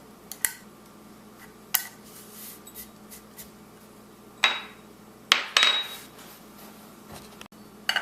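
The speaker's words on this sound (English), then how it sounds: "I like using a little paring knife and just cut it in half right down the center." Paring knife slicing a serrano pepper in half and cutting out the seeds on a board, heard as a few sharp, separate knife taps and scrapes spread over a quiet background, with no talk.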